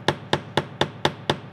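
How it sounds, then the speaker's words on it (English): The round end of a chasing hammer strikes a metal ring six times in a steady, even rhythm, each blow a sharp, close, ringing tap, with no voices. "I'm using a chasing hammer, the round end of it."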